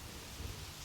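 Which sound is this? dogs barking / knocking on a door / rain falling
rain falling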